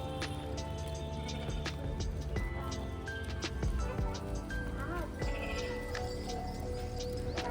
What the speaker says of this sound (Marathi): ह्या बघा दोघी जण बाहेर मेंढ्या आलेत म्हणून गेट ओपन करून बाहेर आलेत बघायला